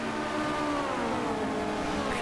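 Touring race cars from the 1990 World Touring Car Championship round at the High Speed Ring dice for position, a dense continuous engine drone with shifting pitch as several cars run close together, heard from a distance.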